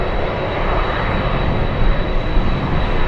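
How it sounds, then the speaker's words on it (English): A Pilatus PC-12 turboprop passes at an airport, a steady broadband engine roar holding constant throughout with no talk. "PC-12 Pilatus."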